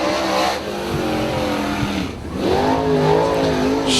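A race car, number 46, roars around Dixieland Speedway on an Allstars qualifying lap, engine loud and close as it passes, pitch dipping and then climbing again under acceleration, with a faint tire squeal.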